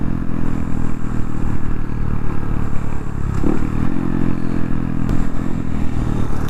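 Honda Grom small motorcycle riding along a road, its engine a steady close hum buried in heavy wind buffeting and rumble, with a brief rev partway through.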